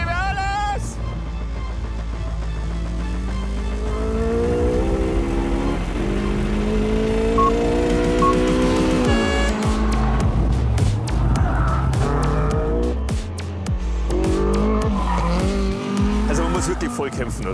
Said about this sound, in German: Ich gehe jetzt auf die schnelle Runde mit dem Caterham 745.